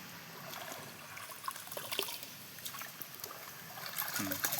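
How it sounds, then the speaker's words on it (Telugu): Anthill soil dissolved in water is poured into a drum, giving a faint, steady trickle and splash of liquid that swells slightly near the end. "ఇప్పుడు పుట్టమన్ను కరగబెట్టి పోసుకుంటున్నాం."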